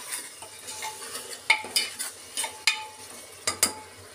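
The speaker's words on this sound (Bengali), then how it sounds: "তো আমি এখন পেঁয়াজটা লাল করে নিচ্ছি।" Onions fry in a pan until browned, with a quiet background sizzle broken by repeated rhythmic scrapes and clinks of a spatula stirring against the metal, close by and without talk.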